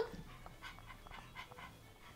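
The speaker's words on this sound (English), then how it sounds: "There's your dog." A dog pants softly and rhythmically, quick breathy huffs repeating close by in an otherwise quiet space.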